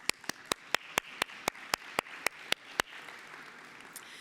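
An audience at a startup pitch competition finale claps for the winners. Crisp, evenly spaced claps ring out about twice a second, then fade into a looser, softer patter of applause.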